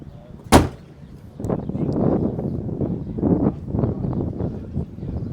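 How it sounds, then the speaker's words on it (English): The driver's door of a 1961 Corvette opens with a sharp click of the latch, followed by a few seconds of muffled rustling and handling nearby. "do you mind if I open the driver's door just to show"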